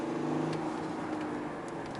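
A 2018 Audi A7 S Line Sportback pulls at full throttle in third gear, its engine a muffled, steady drone heard from inside the well-insulated cabin, fairly quiet and with no talking.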